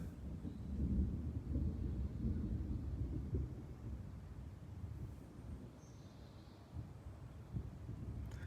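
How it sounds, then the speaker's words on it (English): Rolling thunder from a passing storm rumbles low and distant through the whole stretch, swelling early and fading toward the end, with faint hiss over it and no talk. "I think the storm is headed out."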